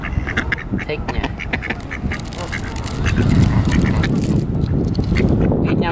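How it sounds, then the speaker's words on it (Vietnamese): Domestic ducks quack up close in a busy flurry of overlapping calls, with a louder, denser stretch of wings, water or rustling midway while the quacking continues. "Vịt nhà mình đấy các bạn ạ."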